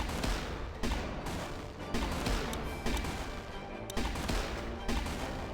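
Machine gun fire in the strategy game Battle Islands Commanders, a dense continuous rattle of rapid shots with heavier bursts roughly every second, steady and fairly loud throughout.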